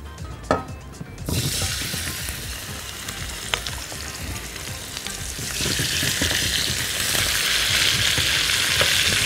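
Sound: chicken pieces frying skin-side down in oil

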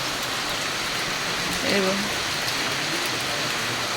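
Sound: rain falling

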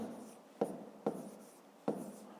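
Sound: writing a number by hand

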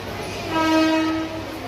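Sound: train

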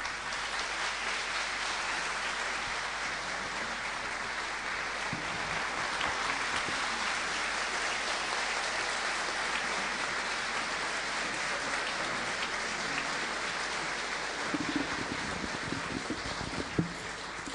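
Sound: audience applause for the teacher

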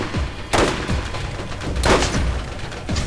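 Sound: gunfire in video game Borderlands

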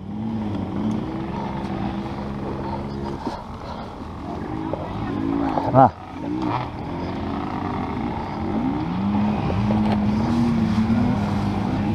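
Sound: moped engine running, enduro

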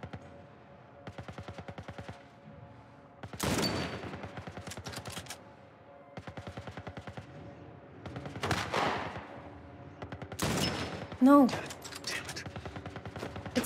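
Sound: gunfire in The Last of Us Part 1 video game

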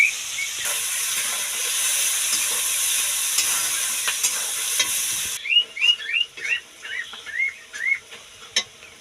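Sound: onions frying and being stirred in a pan

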